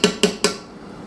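Three sharp metallic clanks in quick succession, close and fairly loud, as a heavy frittata pan is set into an oven rack, then quiet.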